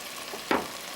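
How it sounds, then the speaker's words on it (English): A brief soft burst of sizzle as garlic ginger paste hits hot oil in a pan for rogan josh, a quiet short hiss rising from a faint background. "Stir and fry it."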